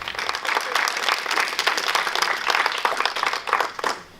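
An audience claps after a speech at a 2017 oratorical contest, a dense, sustained round of applause filling the room close by at moderate loudness.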